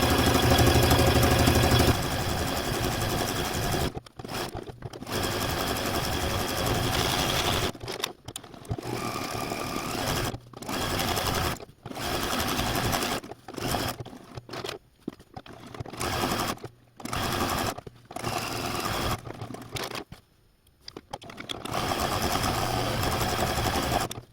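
A sewing machine stitches down quilt appliqué in a long run of steady mechanical whirring, broken by many brief pauses and restarts, close and even in level.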